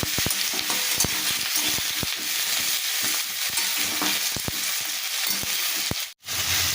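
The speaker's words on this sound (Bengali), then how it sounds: "আলু আর পেঁয়াজটা আমি একটু ভালো করে ভাজা ভাজা করে নিয়েছি" Potatoes and onions sizzle continuously in hot oil in a cooking pan, crackling closely with repeated knocks of stirring, then a brief sharp break and a sudden drop near the end.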